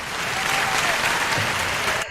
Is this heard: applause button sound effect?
yes